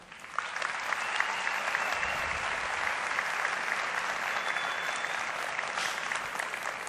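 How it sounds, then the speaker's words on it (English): Large audience at a Samsung Galaxy S4 World Tour event in Johannesburg applauds to welcome the Samsung Electronics Africa CEO, sustained even clapping filling a big hall. "a warm round of applause to welcome our CEO and President of Samsung Electronics Africa"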